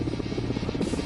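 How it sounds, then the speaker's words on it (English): Air Force Mi-17 helicopters flying during a Special Forces paratrooper drop at high altitude in Ladakh, a loud steady rotor throb and engine drone without speech. "Special Forces paratroopers jumping out of Air Force Mi-17 helicopters"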